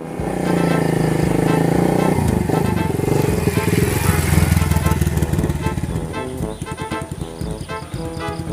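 A motorcycle engine drones steadily, loud and close, with a rough throbbing idle that shifts in pitch midway, alone without voices.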